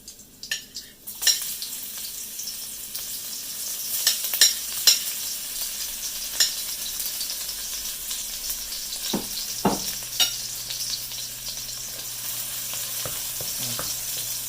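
Garlic and chili stir-frying in a hot pan for Thai Pad Kee Mao, a steady close sizzle running throughout with occasional sharp clinks and scrapes of a utensil stirring.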